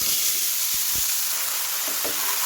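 Potatoes tipped into hot oil with fried green chilli, salt and turmeric hiss in a steady, even sizzle, with a couple of soft thuds as they land in the pan.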